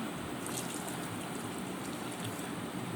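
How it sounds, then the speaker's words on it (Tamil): Water pours in a steady, continuous rush, a broad splashing stream filling a cooking pot for fish curry without pause. "நான் கொஞ்சம் தண்ணியை ஆட் பண்ணிக்கிறேன்."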